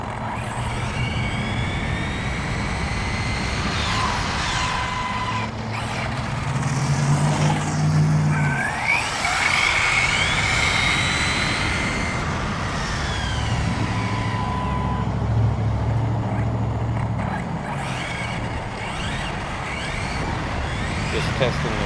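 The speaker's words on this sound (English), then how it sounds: "Just testing the wheels out a little here." WLToys 104001 RC car with new wheels and tires driving around, a continuous high electric motor whine rising and falling as it accelerates, with tire scuffing and a voice talking over it.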